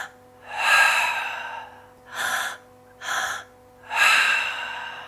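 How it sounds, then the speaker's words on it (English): Four deep meditation breaths in a steady rhythm, two long and two short, each a close, airy rush of air with brief pauses between. "I'm going to do a couple rounds of breath so you can see what my breath sequence sounds like"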